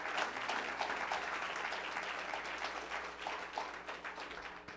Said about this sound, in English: Clap your hand for Sister Beverly, please.